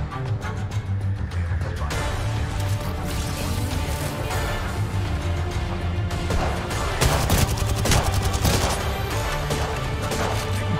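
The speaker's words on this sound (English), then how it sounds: "who is he shooting at now?" Dense, continuous gunfire from the Apex Legends battle royale shooter, with rapid overlapping bursts and crashing impacts filling the whole stretch at a steady, loud level with no talking.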